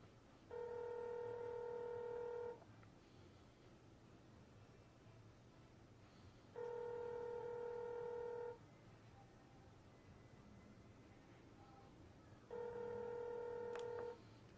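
A phone call placed from a laptop through a phone gives a ringing tone: three evenly spaced two-second rings separated by long pauses, fairly faint over a steady background hiss.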